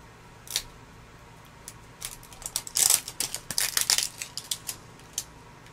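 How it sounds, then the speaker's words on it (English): A toy surprise basket's plastic prize wheel spins with a run of light ratcheting clicks that crowd together and grow louder midway, then thin out to a few last ticks as it slows. "Pull here and spin the wheel."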